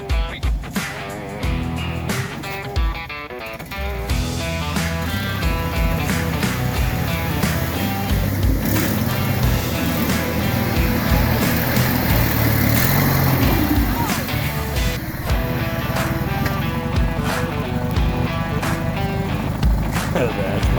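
A mud mower machine with a pulley swap plows through a mud hole, its engine revving and droning steadily at close range for the whole stretch as the throttle rises and falls, with voices talking over it.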